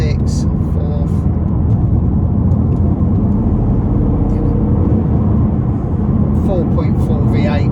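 A BMW M6 with a 4.4 V8 shifts down in sport mode, its engine a loud, continuous close drone with faint higher whines and clicks over it.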